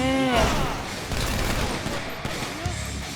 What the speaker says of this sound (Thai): ยิงมัน ยิงแบบแก๊งมาเฟีย